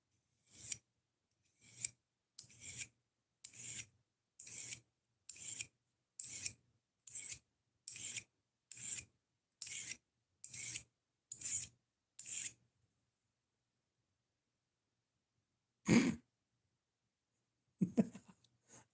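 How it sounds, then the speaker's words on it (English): A screwdriver scrapes against a knife blade in a dozen short, evenly spaced rasping strokes. After a pause come a couple more scrapes, all close and fairly quiet with no talking. "I think I'm scratching the screwdriver more than I'm doing damage to the knife."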